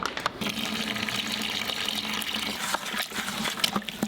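Water is poured into a rapid set cement mix, giving a continuous splashing, trickling pour heard up close.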